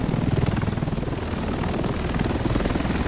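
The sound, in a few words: helicopter in The Division video game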